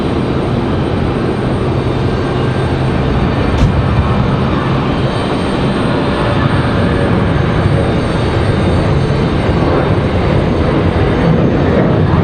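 A Copa Airlines airplane departing for Panama from Raleigh-Durham airport, its engines producing a loud, steady broadband roar that holds throughout without letting up.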